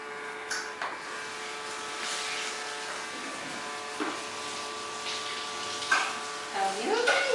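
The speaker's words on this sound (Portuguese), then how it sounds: "Barulho do aspirador?" A vacuum cleaner runs at a steady, fairly faint motor whine and hum indoors, with a few bumps and knocks, while voices talk over it.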